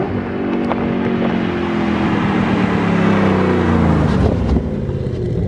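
A Porsche sports car drives past at a distance, its engine note building to a loud, close rush for a few seconds and then fading, with no talk over it.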